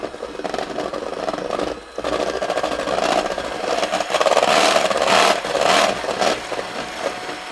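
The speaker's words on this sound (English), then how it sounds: "And then we want to keep whipping that up." An electric mixer whips cream with Kahlua for a chocolate pie, its motor whirring loudly nearby with surging, uneven pitch and a brief dip in speed, no voices over it.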